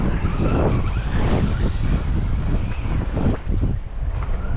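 A Traxxas Mini Maxx RC car drifts outdoors, giving a loud, continuous rush of motor whine and tire scrub with gusty wind noise buffeting the microphone.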